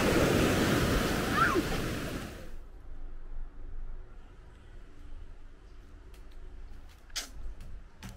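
Small sea waves wash onto a beach on the Tuscan coast, with a loud surge of surf and wind at first that drops away to a faint, quiet lapping background with occasional soft clicks.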